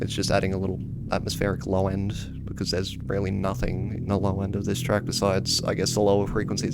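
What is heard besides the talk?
None of the usual background noises is heard.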